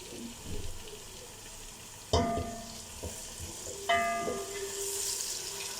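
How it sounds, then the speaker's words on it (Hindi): Tomatoes fry in a pan for chana dal chicken, giving a quiet, steady sizzle. A couple of sharp utensil clanks and stirring noises sound close by. "और इसकी भी अच्छे से भुनाई कर लेंगे।"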